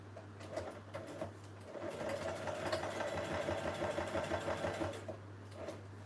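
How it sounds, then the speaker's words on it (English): A sewing machine stitches while a mini journal is being made, a close mechanical whirring hum that starts in short bursts and then runs in one longer steady stretch before stopping. "I'm just going to do a bit of sewing again"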